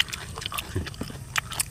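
Crunchy, spicy Thai squid salad is bitten and chewed up close, with crisp crackling crunches and wet smacking in an uneven rhythm and no speech.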